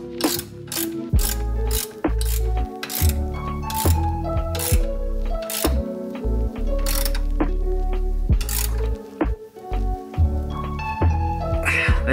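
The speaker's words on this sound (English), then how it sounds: "So I recommend you use a box end wrench, preferably a ratcheting one." A ratcheting box-end wrench clicks on the rear brake bracket bolt of a Honda Civic during a rear disc brake upgrade, in loud, close bursts of rapid ratchet clicks broken by short pauses.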